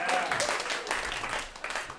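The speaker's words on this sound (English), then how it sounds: "You guys are clapping for promiscuity." An audience claps through a stand-up comedy set at a live variety show, a dense, noisy patter of many hands filling the room at steady loudness for about two seconds.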